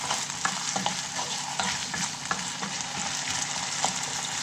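Potatoes fry in a pan with salt for potato shakshuka, a soft continuous sizzle broken by repeated scraping and clinks of a spoon stirring, fairly quiet and with no voices.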